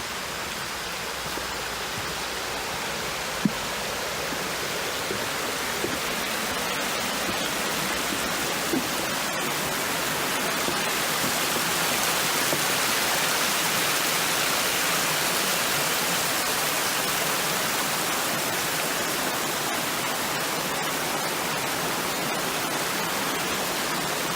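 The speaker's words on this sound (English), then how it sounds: "There's almost nothing nicer than the sound of running water." Running water of a stream beside a hiking trail on Pyramid Mountain, New Jersey, a constant broad rushing hiss that stays steady and fairly loud throughout, with only a few faint footstep clicks.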